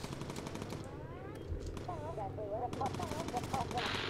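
Turret gunfire from a bomber aircraft in Bomber Crew, USAAF campaign, heard as repeated bursts of rapid shots over a steady engine drone, with a warbling electronic tone partway through.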